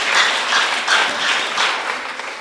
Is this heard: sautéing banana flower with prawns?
no